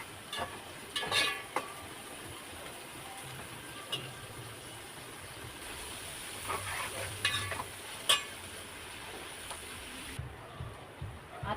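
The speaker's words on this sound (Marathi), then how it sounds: "कांदा तेलामध्ये परतून घेते" Onion sautéed in hot oil for misal pav, a continuous low sizzle with occasional scraping stirs of a spoon in the pan, close and fairly quiet throughout.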